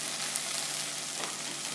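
Okra (bhindi) fries in a pan, giving a steady, even, moderately faint sizzling hiss with no other sounds.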